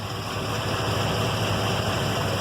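A Chevrolet Tahoe with a swapped LS engine idles through a Borla muffler, giving a steady, low, even rumble that stays constant and close throughout with no talking.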